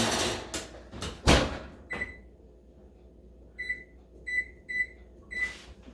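An oven door is handled as a tray of homemade blueberry lemon baked donuts goes in: a few loud thuds and clunks up front, followed by a string of short electronic beeps as a timer is set, with no talking.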